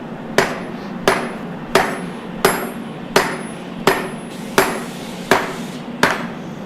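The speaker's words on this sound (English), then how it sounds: "I put a bit of a dimple in there on the spine. I wasn't thinking about it, I was hammering in the same spot" A knife spine being hammered during forging: nine evenly spaced, loud ringing metal strikes about three-quarters of a second apart, alone without talk.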